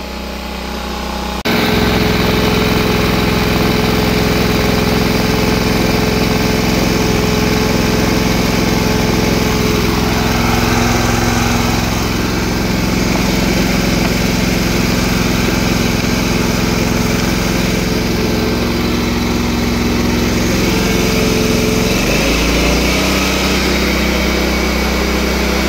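Small engine on a dairy farm, likely on a TMR mixer, revved up to full throttle and held there, a loud, steady, even drone throughout with a brief dip near the end and no talking.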